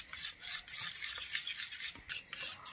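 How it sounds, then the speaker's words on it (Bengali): Half a teaspoon of turmeric is stirred into a batter, giving a continuous, close, rasping scrape with a steady rhythm and no talking. "হলুদটা দিয়ে ভালো করে আবার সব কিছু মিশিয়ে নিচ্ছি।"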